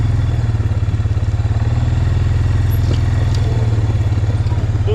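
A motorbike climbs uphill on a muddy bush track, its engine a loud, close, steady throbbing drone throughout, with faint rattles and clatter over the rough ground.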